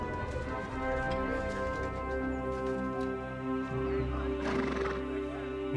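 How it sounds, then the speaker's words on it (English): A horse neighs and whinnies loudly in Kingdom Come Deliverance 2, with hooves clip-clopping beneath it and a steady backdrop of in-game ambience, and a second whinny rises toward the end. "who's the guy on the horse?"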